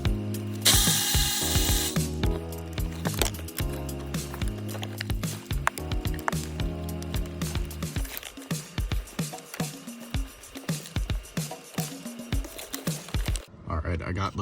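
Ratchet working engine bolts loose on a Ford Expedition with a 3.5L EcoBoost, during a fuel injector replacement. Rapid, close clicking comes in bursts, denser in the second half, over a steady tonal background.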